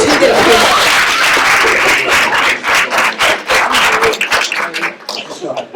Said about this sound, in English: Let's do a little round of applause